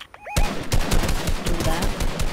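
Gunfire in a shooter video game, sniping included: a sudden loud barrage of rapid, repeated shots crashing in after a brief quiet opening and continuing as dense, overlapping blasts to the end.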